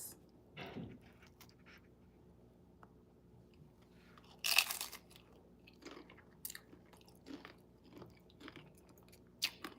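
Someone bites into mesquite chicken black bean nachos, with a sharp close crunch followed by quieter intermittent chewing and crunching at close range.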